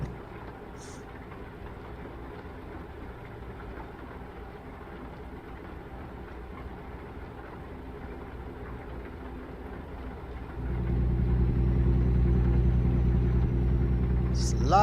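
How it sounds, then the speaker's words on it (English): A train rumbles past in American Truck Simulator, a low steady rumble that grows much louder and heavier in the last few seconds, with faint talk early on. "I hear train."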